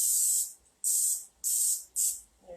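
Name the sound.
non-stick cooking spray sprayed into an oven-safe dish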